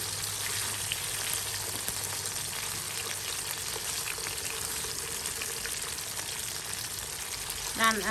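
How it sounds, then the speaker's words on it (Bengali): Pangas fish pieces frying in a pan, a dense continuous sizzle throughout with occasional small clinks as pieces are turned near the end. "মাছ ভাজিগুলো দেখুন এক সাইডে হয়ে এসেছে। আমি আবার একটু একটু করে উল্টিয়ে দিচ্ছি"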